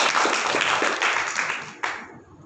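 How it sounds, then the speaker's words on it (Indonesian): Audience applause for the Mayor of Bengkulu at a formal gathering, a dense crowd patter that holds steady, then tapers off after a brief louder burst near the end. "Tepuk tangan dulu untuk Bapak Wali Kota Bengkulu."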